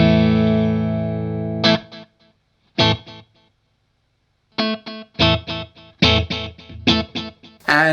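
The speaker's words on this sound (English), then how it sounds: "Yeah, so there's that delay reverb section." A Zoom 505II guitar multi-effects pedal plays processed guitar notes through its delay and reverb section: a long sustained chord rings out, then a run of short, repeated strummed bursts with echoing tails, loud and alone.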